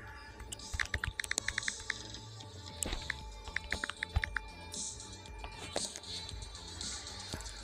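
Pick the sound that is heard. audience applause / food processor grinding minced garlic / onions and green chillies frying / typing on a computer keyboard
typing on a computer keyboard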